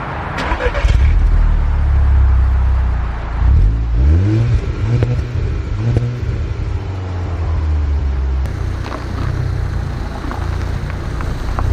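A Volkswagen Golf R with a DSG gearbox pulls away and accelerates, its engine rising and falling in pitch through several revs and gear changes, loud and close with steady road and cabin noise throughout.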